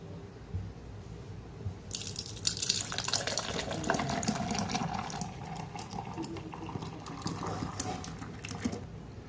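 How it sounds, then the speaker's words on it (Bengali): Thick lassi pours and splashes into a glass, a soft continuous liquid trickle that rises after a quiet start and carries on faintly to the end, with no talking. "এখন গ্লাসে আমি সার্ভ করে নিচ্ছি।"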